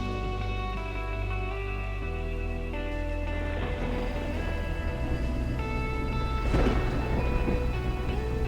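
Deep rumbling thunder rolls continuously from a monsoon thunderstorm near Belen, New Mexico at sunset, with a louder swelling crack-and-rumble near the end over steady rain-like noise and a faint tonal hum.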